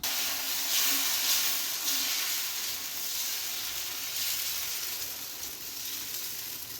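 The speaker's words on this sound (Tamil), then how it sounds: "கல் சூடு ஏறிடுச்சு. இப்போ தோசை ஊற்றிடலாம்." Dosa batter poured onto a hot stone griddle sizzles with a steady loud hiss that swells and eases slightly over several seconds, with no talk over it.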